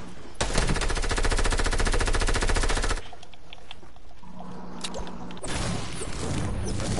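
Light machine gun fire in a video game, a loud sustained automatic burst for about two and a half seconds, followed by quieter game sounds and a few scattered shots.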